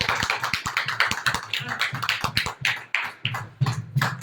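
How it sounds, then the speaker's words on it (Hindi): Audience members at a meeting clap at a host's prompting, their claps sounding close and sharp as an uneven, fairly sparse patter of distinct hand strikes rather than a dense ovation. "दूसरा स्वदेशी प्रोडक्ट के लिए जबरदस्त ताली बजा दीजिए"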